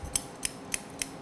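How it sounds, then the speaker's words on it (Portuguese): Scissors snip through hair during a men's mohawk haircut, giving four crisp, evenly spaced cuts, close and clear over a soft room background. "Tesoura no Rafael, hein?"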